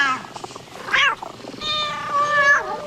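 A cat meows repeatedly, close and fairly loud, with drawn-out, wavering cries rising and falling over a quiet indoor background and no talk.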